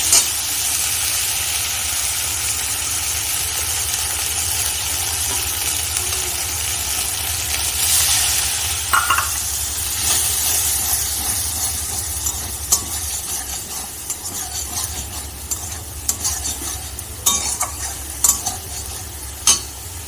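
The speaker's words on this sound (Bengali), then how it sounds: "তেলটা গরম হয়ে গেছে আদা জিরেটা দিয়ে দেবো ভালো করে মশলাটা একটু কষিয়ে নেবো" Ginger and cumin spices frying in hot oil, a steady close sizzle broken by scraping stirs and a few sharp spatter pops, with no talking.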